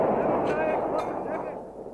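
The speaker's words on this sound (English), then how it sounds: "Artillery fire is a daily occurrence on both sides of the conflict from posts like these surrounding the disputed Siachen Glacier" Artillery fire from a mountain post on the Siachen Glacier front in the Kashmir conflict, heard as dull, heavy booms rolling out under a voice that keeps talking.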